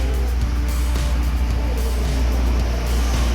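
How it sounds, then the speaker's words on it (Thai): An Audi TT engine idles steadily after a remote start, giving a close, constant low rumble with no change in level and no voices. "รถได้ทำการสตาร์ทแล้วนะครับผม"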